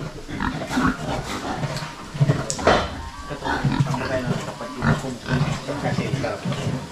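Several farm pigs grunt and snuffle close by in a steady, busy stream of low sounds, with people talking over them throughout.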